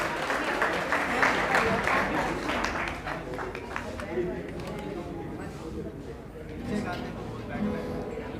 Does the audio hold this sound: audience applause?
yes